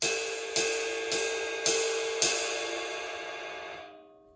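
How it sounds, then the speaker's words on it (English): Five evenly spaced drum kit cymbal hits made with a tight grip, each bright and washy, the ringing building into a sustained shimmer that dies away shortly after the final strike. "if I hold on super tight and hit the cymbal the same exact way, it sounds like this."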